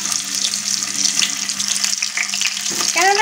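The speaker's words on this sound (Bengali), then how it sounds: "এবার আমি এই তেলটাতে প্রথমে আমি সমস্ত ফুলকপিগুলো ভালো করে ভেজে নেব" Cauliflower florets fry in hot oil in a wok for a Bengali cauliflower korma, giving a steady broad hiss and crackle close by with a low hum underneath, and no one speaking.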